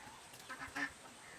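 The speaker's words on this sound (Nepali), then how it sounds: "हाँसको बच्चाहरू कति धेरै छ" Ducks and ducklings quacking outdoors near water, a few short, faint calls rising briefly over a quiet background with crows nearby.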